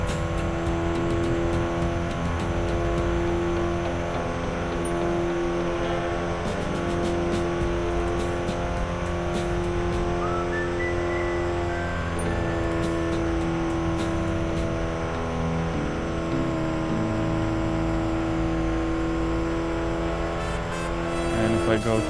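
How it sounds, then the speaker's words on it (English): A race car engine strains at high speed in a racing video game, giving a loud, steady, buzzing drone with layered harmonic tones that holds throughout with little change in pitch. "The engine does struggle here more though."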